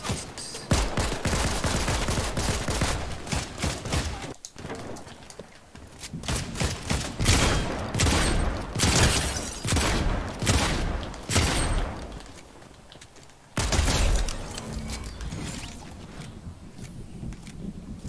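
Rapid bursts of gunfire from a weapon in the video game Fortnite, loud and dense, firing in repeated volleys with brief pauses, including a sharp break near the middle and another toward the end.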